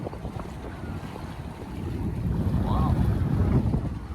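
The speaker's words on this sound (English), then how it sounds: "we're cruising right now with the jib up." Sailboat cruising under its jib, with heavy wind rushing across the microphone and water washing along the hull, a loud, steady blustery roar that swells toward the end, and a brief exclamation from a person.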